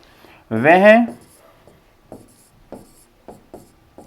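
A pen writes out a sentence during a grammar lesson, giving several short, soft scratching strokes in an irregular rhythm, preceded by a brief voiced sound.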